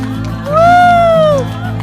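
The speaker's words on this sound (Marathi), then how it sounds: "जोरदार टाळ्या झाल्या पाहिजेत" A crowd cheers and applauds for women playing a game in a TV newsroom during a Women's Day event, with a loud rising and falling whoop riding over the steady, close crowd noise.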